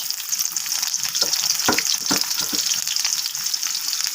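Bay leaf and onion dropped into hot oil in a wok, a bright steady hiss of frying with a burst of crackling spatter and stirring knocks in the middle.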